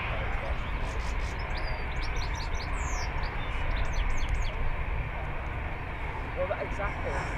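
Small birds chirp and tweet in scattered bursts outdoors at Manchester Airport in the early morning, heard over a steady broadband roar from aircraft and airport background.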